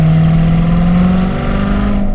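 A C7 Corvette Z06 sports car circling a small roundabout, its engine a loud steady close-up drone with a slowly rising note and no talk over it.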